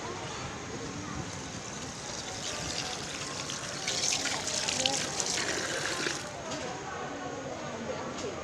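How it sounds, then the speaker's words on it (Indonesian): Tap water runs steadily while hands are washed at a restaurant in Jombang, East Java, a constant hiss that swells briefly midway, with a murmur of voices in the background. "Cuci tangan dulu."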